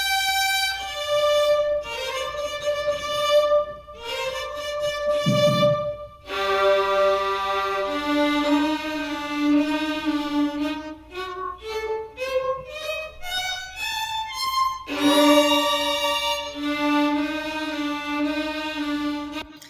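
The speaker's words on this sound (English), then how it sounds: "So this sound is the sound of my first violin section." A school orchestra's first violin section, each player recorded separately at home and layered together, plays a sustained, singing melody of long bowed notes shifting in pitch, full and steady with no talk.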